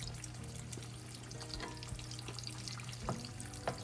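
Farm-fresh eggs, one a double yolker with the yolks broken up, fry quietly in a pan with a soft, continuous crackle and a few small pops.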